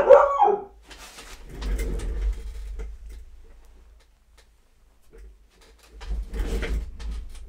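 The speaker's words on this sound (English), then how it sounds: "Sorry about that interruption, my dog." A dog barks and howls a few times at the very start, loud and close, followed by quiet room noise; a voice speaks briefly later during a pre-algebra lesson on proportions.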